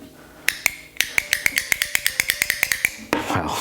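Madtrace magnetic shift paddles on a 2020+ Toyota Supra A90 clicking close up: a series of about fifteen crisp, sharp plastic clicks in quick, slightly uneven rhythm, with a brief rustle at the end.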